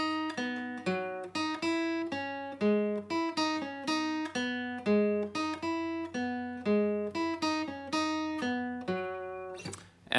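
Clean, bright guitar notes pluck out a repeating riff in a steady rhythm, each note ringing briefly, close and clear with no voices.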